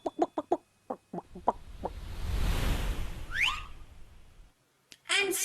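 A chicken clucks in a quick run of sharp close calls, then a hissing broadband wash swells and fades with a brief whistle-like sweep, and a burst of squawking returns at the end.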